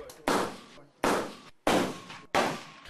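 Four loud, close gunshots ring out at evenly spaced intervals, each with a sharp crack and short decay, at a military firearms training session for journalists with Kalashnikov rifles, Makarov pistols and SVD sniper rifles.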